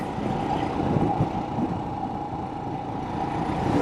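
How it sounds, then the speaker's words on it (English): Road traffic at Iowa's busiest intersection, a steady wash of car and truck engines rumbling past nearby, continuous and moderately loud with no talking. "Hey, we got some traffic going here today."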